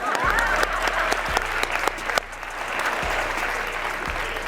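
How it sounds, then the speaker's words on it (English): A seminar audience gives a sustained round of applause, a dense and steady patter that holds loud for several seconds before easing slightly. A few louder bumps sound through it. "Let's clap it up for these 11 people."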